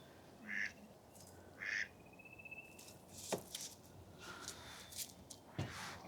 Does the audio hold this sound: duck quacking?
yes